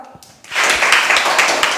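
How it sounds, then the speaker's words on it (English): A group claps for a student in a classroom lesson: loud, dense applause bursts in after a brief quiet start and carries steadily to the end, with no talking. "Let's clap for her."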